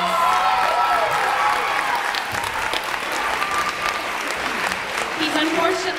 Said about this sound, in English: Can we please give Stephen Shannon a wonderful round of applause?